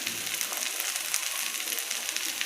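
Onions frying with a few green chilies in a pan, a steady close sizzle crackling without pause and no voices.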